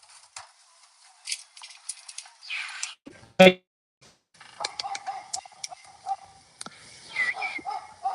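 A dog gives a single loud, close bark amid otherwise quiet surroundings with faint tapping and someone talking softly in the background.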